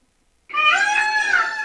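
A person imitates a peacock's call with a single loud, rising, wailing cry that starts sharply after a moment of silence and holds for over a second.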